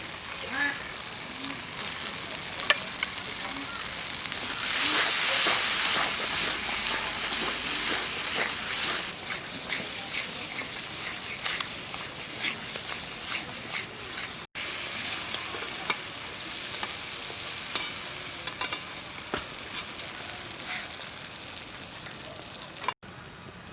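Ground spice paste hits a hot pan in an egg curry recipe, bursting into a loud, steady sizzle and frying crackle that holds throughout, with scattered pops and a brief swell of hissing.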